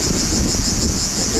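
Cicadas on a Greek island archaeological site drone in a steady, continuous high-pitched buzz, with faint low wind noise and rustle beneath throughout.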